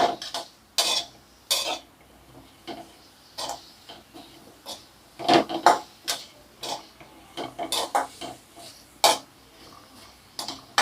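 A spoon stirs salt into raw mango pachadi in a bowl, making a series of irregular clinks and scrapes against the bowl, close and clear with quiet gaps between strokes.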